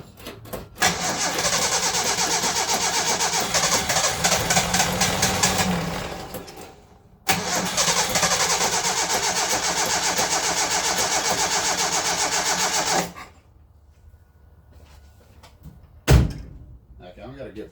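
A 1968 Datsun 1000 found in a shed cranks and starts, its small engine running steadily at close range, then cutting off and restarting, with a door thud near the end.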